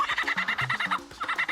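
A male lyrebird mimicking the calls of other bird species, giving a quick, rhythmic run of clucking, gobbling notes repeated several times, close and clear with no talk.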